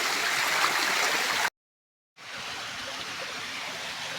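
A waterfall in the hills roars as a steady, broad wash of rushing water, briefly cutting to silence before the continuous splashing resumes at a slightly softer level.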